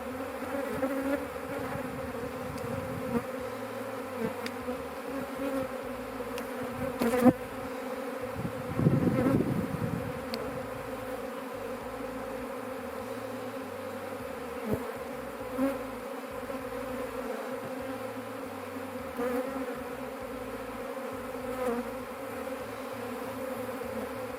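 A dense honeybee swarm hums continuously close by at a hive, a steady layered buzz with occasional louder bees passing near and brief knocks.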